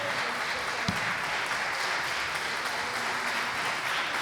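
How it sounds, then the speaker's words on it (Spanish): Applause filling a legislative chamber, a dense, steady roar of many hands clapping with no pause, fairly loud and continuous. "Gracias por el aplauso."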